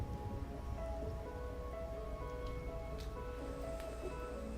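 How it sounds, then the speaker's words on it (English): Rain falls in a video game as a soft, continuous patter on surfaces, faint and steady, with a few light drop ticks and no talking. "I'm just chilling like a villain, waiting for the rain to stop."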